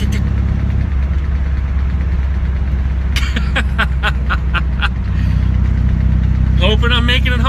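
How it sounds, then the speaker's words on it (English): A screw lodged in a car tire gives off a quick run of sharp ticks while the car is driving, heard over a steady engine and road drone. A voice is also present. "that's the screw in the tire, and it's loud"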